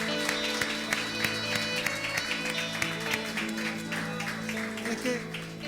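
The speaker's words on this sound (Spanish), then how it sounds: "Le damos un fuerte aplauso al Señor." A church congregation claps together in a steady, fairly even rhythm, while sustained music runs underneath.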